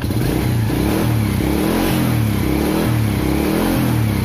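A second-hand motorcycle engine roars steadily at close range, its pitch rising and falling in repeated revs with a rough, throaty rumble throughout.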